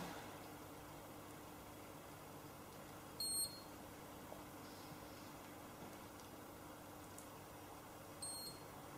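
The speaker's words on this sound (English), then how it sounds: "That final beep just tells me again that I've come to the end of that phase" A facial skin treatment machine gives short, high electronic beeps signalling the end of a treatment phase, two brief tones several seconds apart over a low steady hum of room and fan noise.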